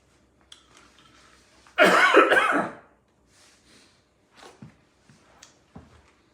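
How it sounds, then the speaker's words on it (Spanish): A man coughs hard in one loud, harsh burst lasting about a second, set against quiet room sound, followed by a few faint throat-clearing sounds and breaths. "me agarró la tos"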